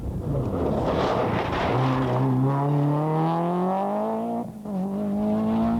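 A Toyota rally car races hard along a stage at the 1992 Donegal International Rally, its engine loud and near, pitch climbing through gears in rising sweeps, with a brief lift off the throttle before it pulls again.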